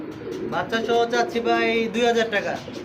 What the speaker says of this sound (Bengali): একটা গিরিবাস কবুতর